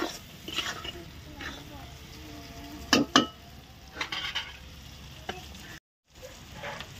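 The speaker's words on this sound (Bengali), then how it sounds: "আবার একটু কষিয়ে নেবো। নিয়ে আমরা দিয়ে দেবো টমেটো কুচি।" Tomato masala for Rui fish curry being stir-fried in a pan, a steady soft sizzle under scraping spatula strokes and a few sharper clinks of utensil against the pot, with a brief gap near the end.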